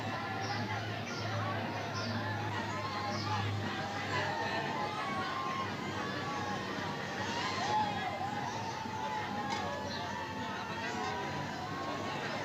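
Dense crowd hubbub at a village Boishakhi fair on Pahela Baishakh, with a Ferris wheel and boat rides nearby; steady overlapping chatter and babble fill the scene, with a low hum underneath.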